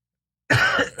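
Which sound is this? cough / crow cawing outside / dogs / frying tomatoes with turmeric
cough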